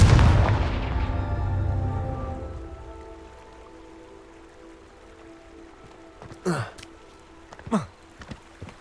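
Confringo fire spell blasting in the video game Hogwarts Legacy, a loud booming explosion at the start that decays into a long ringing tail, followed by two sharp whooshing bursts, no talking.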